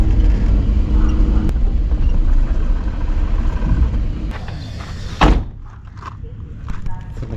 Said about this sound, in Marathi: चला आता जरा गाडी पार्क करतो इकडे